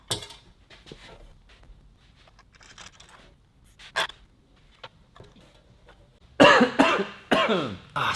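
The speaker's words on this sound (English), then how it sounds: "Still a little cough on the flu." Several coughs from a person recovering from the flu, the first sharp and close, then a cluster of louder, harsher coughs near the end with quiet breathing in between.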